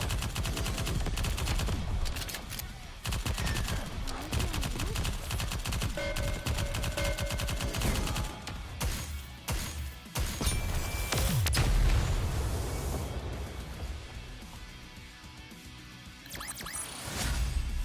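Gunfire in the video game Goddess of Victory: Nikke: dense rapid bursts and machine-gun volleys with occasional booms, loud and continuous, easing somewhat toward the end.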